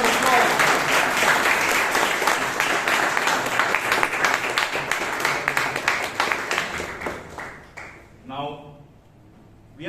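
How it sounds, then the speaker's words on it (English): A room of people at a Toastmasters club meeting claps loudly for the prepared speech session, a dense sustained round of applause that thins and fades over the last seconds as a voice begins speaking. "please give to all of them a huge round of applause"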